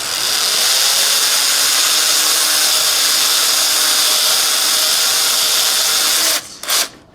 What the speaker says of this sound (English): And I'm drilling a hole through where the mark is